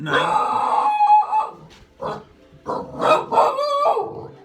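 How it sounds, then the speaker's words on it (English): A dog barks repeatedly at close range in a string of loud, uneven barks with short gaps between them. "what are you barking at?"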